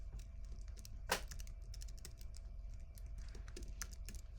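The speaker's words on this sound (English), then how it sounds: "hopefully I've typed my password correctly" A computer keyboard clicks as a password is typed, with quick, uneven keystrokes, one sharper tap among them, heard close but faint in a quiet room.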